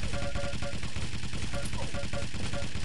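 Rapid machine gun fire from the first-person shooter Quake during a competitive league match, a dense, continuous rattle of bursts filling the whole moment over game noise, with a commentator's voice mixed in.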